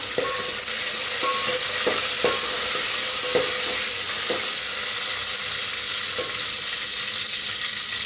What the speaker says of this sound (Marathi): कढीपत्ता थोडंसं हिंग आता भाजून घेऊया